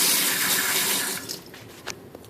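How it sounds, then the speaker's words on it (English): Kitchen faucet running water in a house, a loud, even splashing rush that cuts off partway through, leaving a few faint drips and trickles. "Faucet works."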